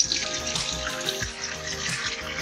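Water poured out of a container while cleaning an animal skull, a continuous splashing gush that runs steadily and close at moderate loudness, alone without talk.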